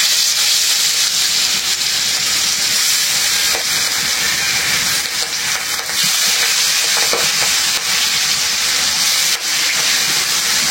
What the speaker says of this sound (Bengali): হলুদের গুঁড়া, মরিচের গুঁড়া, তেলটা গরম হয়ে গেছে